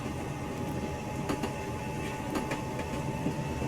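A Metro North M2 commuter train runs on rails on a Stamford local, with a constant rumbling roll broken by several sharp clicks and clacks from the wheels passing over rail joints.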